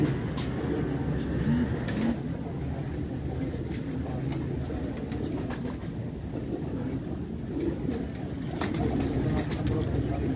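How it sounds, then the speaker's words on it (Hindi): Pigeons at a pigeon club loft, low soft cooing and rustling set within a steady background rumble of nearby traffic, with occasional sharp clicks and taps. "ये मेरे अपने घर के पुराने कबूतर तकरीबन 20 साल पुराने"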